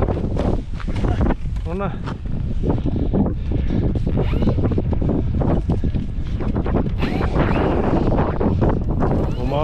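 Strong gusty wind roars steadily against the microphone at Arnarvöllur airfield during an evening flight of an FMS Super Cub model plane, loud and continuous while people talk close by.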